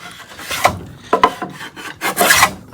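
A coach maker's hand router cuts a groove in wood with three short, scraping rasp strokes. Each stroke is close and crisp and is heard alone, with no talk.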